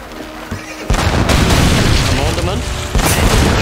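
A fixed shore gun in Age of Empires III blasts at enemy ships, heavy booming cannon fire and rumbling impacts forming a loud, sustained barrage with speech briefly over it.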